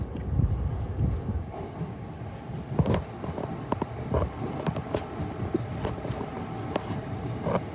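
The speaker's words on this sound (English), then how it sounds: "Three 78203 from Watford Junction coming into London Euston" A Class 378 train, unit 378203 from Watford Junction, pulls into London Euston with a low rumble of wheels and a string of rhythmic clicks and clacks over the rail joints, with some wind buffeting.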